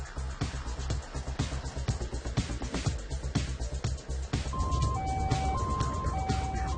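A private ambulance speeds through the streets at around 3 a.m. carrying a burn patient, a loud wailing siren cycling over steady road and engine noise, with melodic electronic tones sounding near the end.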